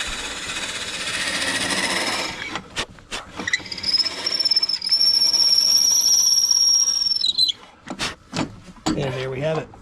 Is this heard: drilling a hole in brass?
yes